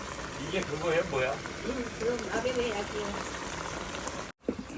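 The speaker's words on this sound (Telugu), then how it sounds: "సాస్ వేసిన తర్వాత ఇంకా ఉడుకుతుంది" Sauce bubbles at a steady boil in a cooking pot in a Korean kitchen, a soft continuous simmer beneath people talking close by that nearly covers it, ending with a brief drop to silence.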